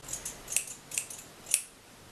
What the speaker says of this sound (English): I'm using my scissors to just snip away at the very ends.